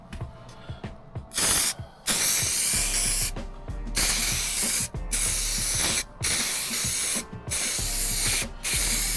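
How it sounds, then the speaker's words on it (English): Spray glue adhesive hisses from a can onto a surface inside a Ford Transit camper van being insulated and carpeted. The hiss comes in repeated bursts of a second or more, with short clicks and gaps between them. "Got to spray this surface."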